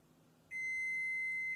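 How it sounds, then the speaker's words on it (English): An oven timer in a home kitchen sounds a single steady high electronic beep lasting about a second, clear and close over a faint low background hum, signalling a homemade pizza crust is done. "You can hear the oven beeping,"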